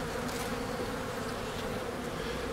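Dark-looking honeybees hum around the open frames of an all-medium beehive, a steady, close, even buzzing that fills the whole stretch with no voices.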